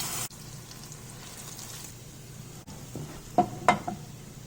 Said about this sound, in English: saute this in a very low heat, low heat, not very low, but low heat, because you have to be careful with the sambal splatter